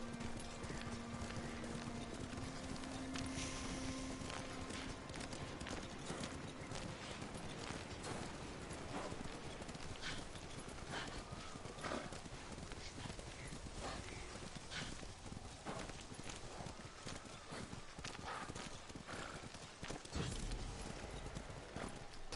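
Horse hooves clip-clop in steady rhythm in the video game Ghost of Tsushima. The footfalls are close and continuous, with faint mechanical clatter and a brief whinny, and there is no talk.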